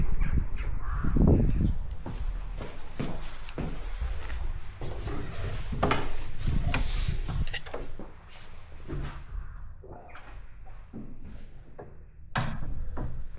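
Crows caw repeatedly inside St Rhian's Church in Llanrhian, harsh calls echoing in bursts, mixed with knocks and creaks like a door shutting, with no voices.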